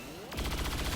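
A sudden burst of gunfire in the video game XCOM 2 cuts in sharply after a quiet start. Rapid repeated shots follow loud and close, with a rattling rhythm.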